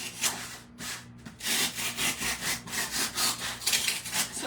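Hand saw cutting material for a chocolate bunny kit, with steady back-and-forth rasping strokes in a quick even rhythm after a brief pause, close and fairly loud.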